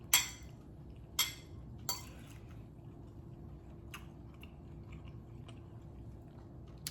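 Chewing a bite of chicken fried rice, close to the mic, with a few sharp crunchy bites at first, then quieter soft chewing and faint clicks.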